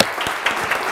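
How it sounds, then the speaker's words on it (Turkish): Applause from a crowd, steady clapping throughout a brief burst with no talking. "O zaman bir alkış daha kendisine."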